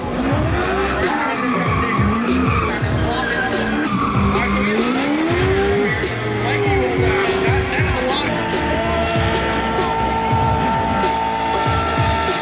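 Continuous loud engine roar and rising revs from an LS3 V8-swapped Nissan 350Z drifting at Fuel Fest 2023, with squealing, skidding tires and a harsh, sustained racket that never lets up across the run.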